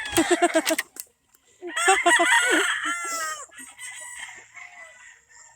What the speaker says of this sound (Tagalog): Nakakatakot yung mga panabong na manok guys.